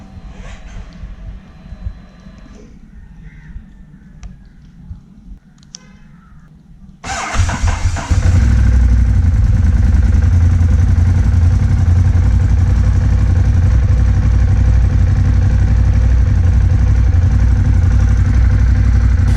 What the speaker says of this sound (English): let's start up and check the exhaust note first.